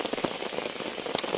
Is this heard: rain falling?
yes